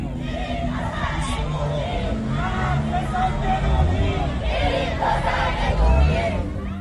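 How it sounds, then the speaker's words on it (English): Crowd of protesters chanting together in the streets of Tehran at night, a loud continuous mass of voices with rising and falling rhythmic shouts, no single speaker standing out. "Later that night, chants of protest came ringing out through Tehran."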